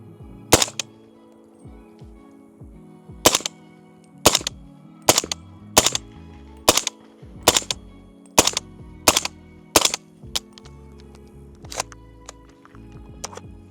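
About ten loud, sharp rifle shots from a 300 Blackout build crack at a target 20 yards away. They come at uneven intervals of roughly a second, each ringing out close and clear, then give way to quieter handling noises.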